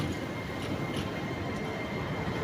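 A long 15-coach passenger train rolls through Newcastle station with a steady broadband rumble and rushing noise, continuous and fairly close, with no talking.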